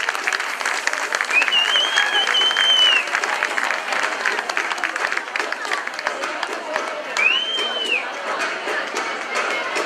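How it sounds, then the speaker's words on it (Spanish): Loud, sustained applause from an audience at a children's Christmas festival in Cadreita, clapping filling the whole stretch with crowd noise and a couple of whistles rising above it. "recibámoslas con un fuerte aplauso, que se escuche hasta París"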